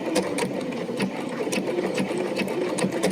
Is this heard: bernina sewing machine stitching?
yes